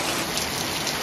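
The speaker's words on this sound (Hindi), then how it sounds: "देख रहे हो कितना फास्ट बारिश हो रहा है।" Heavy rain pours down on a street during a downpour, a dense, loud, steady hiss of drops on surfaces filling the whole moment with no let-up.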